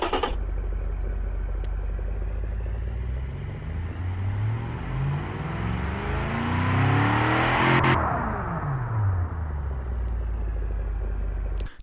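A simulated car engine with tubular headers and a straight-through muffler revs in the Automation racing game, climbing steadily in pitch over several seconds before dropping back down, a loud continuous drone with no talk.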